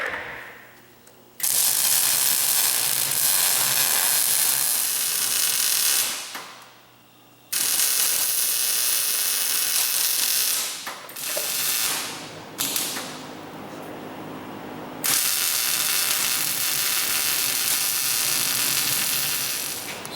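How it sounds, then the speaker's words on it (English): Harsh crackling bursts of welding as bumpers are fixed onto a Super Stock race car, loud and close, with several long runs broken by short pauses and no talking. "start welding these solid to get them so they'll stay where they need to"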